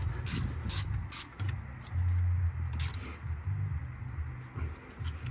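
A ratchet clicks in steady bursts as the lower brake caliper bolt is tightened on a Ford Focus MK2 1.6 TDCi during a front brake pad and disc change at home, close and fairly quiet.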